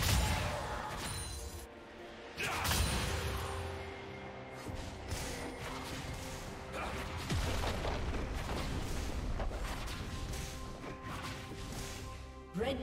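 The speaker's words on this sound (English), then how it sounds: "Red team's turret has been destroyed." A turret explodes in a League of Legends match, with heavy crashing booms and impacts layered over continuous game music and battle effects, loud and busy throughout with several distinct hits.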